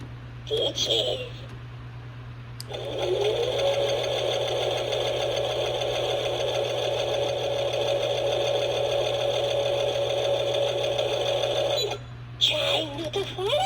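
Joann Fabrics skeleton sewing machine Halloween decoration whirs steadily for about nine seconds, a close, even mechanical buzz with a low hum beneath, framed by short bursts of talking at the start and end.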